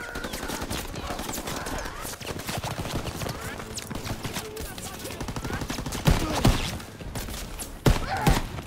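Machine gun fire rattles through a Call of Duty: WWII battle, a dense continuous burst with heavy explosions and thuds, plus sharp louder reports near the end and shouted voices in the mix.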